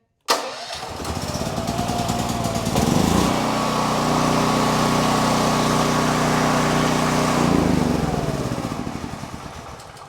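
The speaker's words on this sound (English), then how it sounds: "Now as far as starting it with the electric start, okay, we have it off right now." A 6500E portable generator cranks on its electric starter, catches and settles into a loud, steady close-up engine drone that continues to the end.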